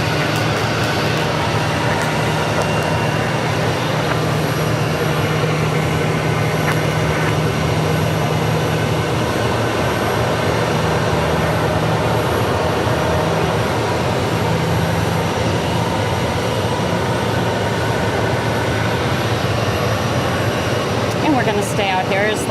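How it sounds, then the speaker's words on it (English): A Boeing 737 and an Airbus A320 landing at Phoenix Sky Harbor Airport, heard as a steady, loud roar of aircraft engines that continues for the whole stretch, with talk at times over it. "It's a Boeing 737, and right behind him is American Airlines Flight 451 coming in from Tucson, and that's an Airbus A320."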